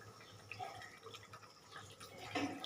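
A little water poured into a spice mixture in a pan for a prawn dish, a faint watery splash and bubbling with light dripping, quiet and close.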